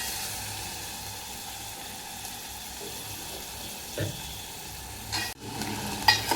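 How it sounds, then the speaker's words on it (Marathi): Green cowpeas tip into a pan of roasting tomatoes, a low steady sizzle that swells briefly with a splash and burst of crackling near the end. "आता टोमॅटो भाजत आला ना की मग त्याच्यामध्ये ही चवळी असते ना, हिरवी चवळी असते ती टाकायची."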